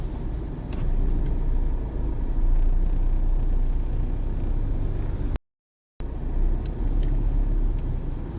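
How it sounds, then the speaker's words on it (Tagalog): Slow-moving road traffic near a stoplight at the corner of Meralco Avenue and Julio Vargas Avenue: a continuous loud rumble of car engines and tires, close by, with a brief silent gap. "Medyo mabagal ang daloy ng sasakyan, gawa ng may stoplight tayo dyan sa kanto ng Meralco Avenue and then Julio Vargas."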